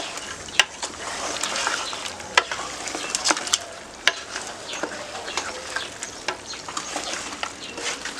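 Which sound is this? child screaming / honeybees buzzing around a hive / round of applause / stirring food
stirring food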